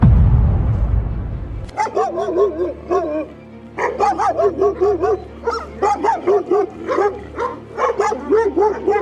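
Turkish Akbash dogs bark repeatedly nearby in short, loud, rhythmic bursts with some yipping, following an initial low rumble.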